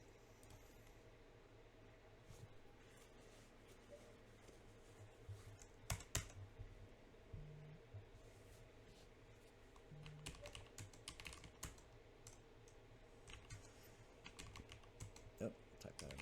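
Keystrokes on a computer keyboard while configuring a campus distribution switch, faint scattered clicks and short bursts of typing at a quiet level, with soft speech in the background at moments.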